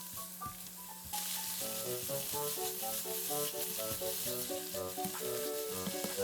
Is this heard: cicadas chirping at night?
no